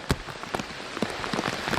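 Rain pattering steadily through the woods onto leaves and a hat, with scattered close drops tapping amid a continuous wash of falling water and no talk.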